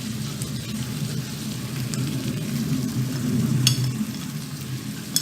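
Chicken pieces frying in hot oil in a curry pan as powdered spices are added, a steady close sizzle with soft stirring and occasional pops.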